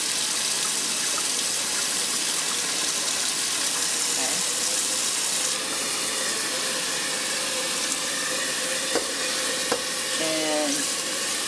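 Cold tap water gushes and splashes steadily over raw goat milk butter being rinsed in a bowl, a constant close hiss with a few faint clinks near the end.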